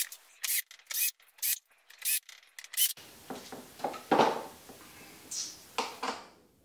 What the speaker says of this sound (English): I leave a little room and then finish it off with a screwdriver.